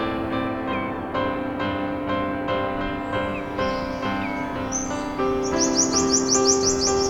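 Migrating shorebirds call on Pantai Sejarah beach in Batubara: many overlapping chirps and tweets, steady and fairly close, with a rapid trill of repeated notes rising near the end, no voices.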